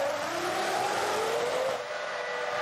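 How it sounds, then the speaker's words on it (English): A 2004 Formula 1 car screaming down the pit straight, a loud, high-pitched engine whine rising then falling as it speeds past, steady and without voices. "Button has made his final visit to the pits on a 2-stop strategy and is already hurtling down the pit straight"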